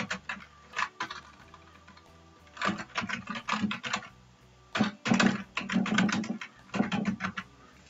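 Rapid bursts of typing on a computer keyboard, clicking keys in uneven clusters with short pauses between runs, close and fairly loud with no talking.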